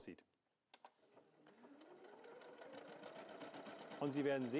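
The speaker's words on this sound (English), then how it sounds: "the machine will sew two 40 patterns" A W6 N 5000 Exklusive sewing machine stitching decorative patterns, its motor starting and running steadily with a rising, whirring rhythm, close and moderately loud, with a voice talking over it.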